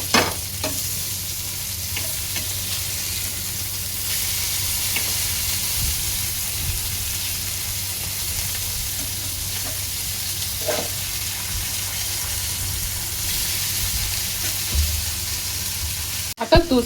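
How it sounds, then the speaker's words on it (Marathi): Wet dried fish (vaktya) fry in a pan with a steady, dense sizzle and hiss that carries evenly from start to finish, with faint stirring or turning noises near the end. "आता दुसऱ्या साईडने सुद्धा आपल्या वाकट्या एक 4 ते 5 मिनिटं चांगल्या तळून घ्यायच्या आहेत"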